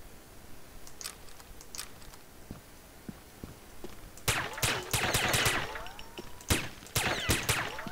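Gunfire in the Combat Arms video game, shooting at obstacles on a bazaar map: scattered faint shots at first, then dense rapid bursts of sharp cracks, short pauses and more volleys, with no talking.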